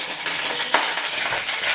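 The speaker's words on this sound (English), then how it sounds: "Okay, we probably got enough sizzle." A breaded pork chop frying in a hot pan, with a continuous close sizzle and a few faint utensil clinks, with no talking.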